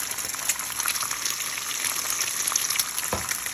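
Sunny side up eggs frying in super hot bacon grease in a pan, a steady close crackling sizzle with a few louder pops throughout.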